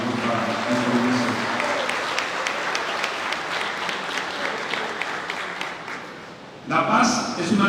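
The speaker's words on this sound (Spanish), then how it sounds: "Un aplauso, por favor, le solicitamos para esta organización." Audience applause at a cultural conversation event on peace and democracy in Colombia, a dense steady wash of many hands clapping throughout, with a voice briefly rising near the end.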